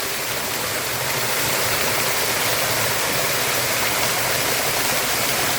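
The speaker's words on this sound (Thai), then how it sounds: "น้ำตกจุดนี้มันตกลงมาที่สูงเพราะมันเป็นหน้าผานะตกลงมาที่สูงนะน้ำตก" A small waterfall drops from a high cliff face in the hills of Khlong Prap subdistrict, giving a steady, close, full-band rush of falling water with no break and no voices.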